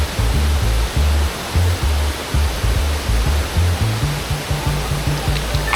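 Rushing river water roars steadily near Kinabuan Falls, with a broad constant hiss, while low thumping buffets from wind on the microphone pulse underneath.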